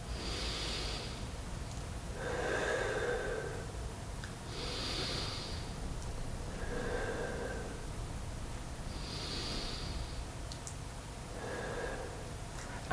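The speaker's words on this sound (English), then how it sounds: "Breathe in slowly." Slow, deep breathing during a Pilates floor exercise, with long audible inhales and exhales repeating roughly every four seconds, close and hushed with no talking.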